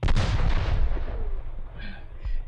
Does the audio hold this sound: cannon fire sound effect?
yes